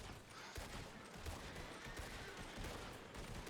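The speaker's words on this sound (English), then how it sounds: "Open fire" Gunfire in a Wild RP roleplay video game, a dense, sustained fusillade of rapid shots rattling on continuously without pause, fairly faint, with no talk over it.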